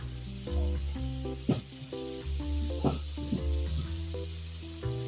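Homemade ghee, two spoonfuls, sizzles in a pan with a continuous hiss and a few louder spits, while a steady tonal melody runs underneath.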